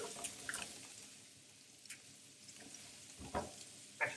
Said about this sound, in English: Keep tossing them around,